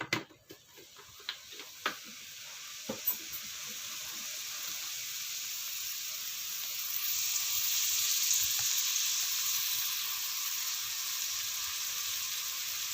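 Garlic and ginger fry in coconut oil, opening with a few sharp utensil taps before a steady sizzle swells and holds loud and close, with no one talking.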